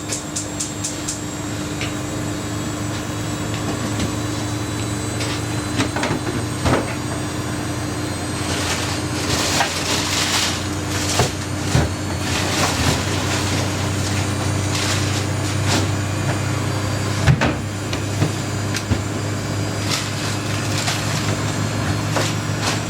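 A steady mechanical hum and rumble with occasional clicks and knocks, as a Siemens IQ300 washer dryer drum on a 90ºC cottons cycle gradually speeds up into a spin.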